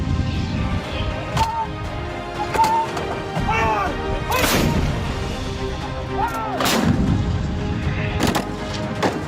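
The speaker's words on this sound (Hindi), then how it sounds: "यह है हिंदुस्तान की सबसे मजबूत ताकत पिनाका मिसाइल" Pinaka rocket launcher fire during an Indo-US military exercise in the desert: several sharp, loud blasts a few seconds apart stand out over a steady rumbling background, with faint voices in the mix.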